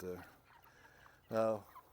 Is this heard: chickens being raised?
yes